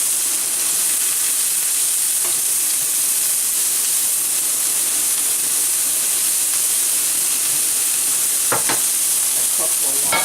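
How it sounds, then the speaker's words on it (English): Onions and mushrooms fry in a pan for Salisbury steak with mushroom gravy, giving a steady close sizzle and hiss throughout, with a few brief scraping stirs near the end and no talking. "Now let's put the onions in here. Along with the mushrooms."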